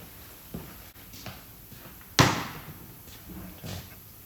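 A washer is knocked home onto a Classic Mini radius arm shaft during reaming work: a few light taps followed by one sharp, loud metallic strike, then quieter knocks in a workshop setting.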